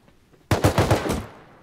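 A short burst of AK rifle fire in the video game Rust, about five rapid, loud shots in quick succession followed by a brief fading tail.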